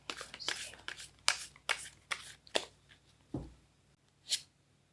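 Tarot cards being shuffled and laid out, a series of short papery swishes and flicks in an uneven rhythm, close and fairly quiet, with a low background hum.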